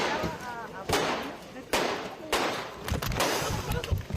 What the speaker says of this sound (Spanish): al menos sí escuchar los 6 disparos que realizó esta mujer